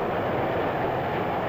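A 1950s diesel freight train rumbles past in the Midwest, hauling a 4,000-ton load. It makes a dense, continuous roar of engine and rolling wagons, loud and steady throughout with no voices.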